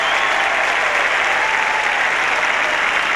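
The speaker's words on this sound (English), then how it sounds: "And the applause for Tim McGrath as he goes off after a good job today on Wayne Carey." Stadium crowd at a 1994 North Melbourne versus Geelong Australian football match applauding as a player leaves the field, a dense, loud, continuous roar of clapping that holds steady from start to finish.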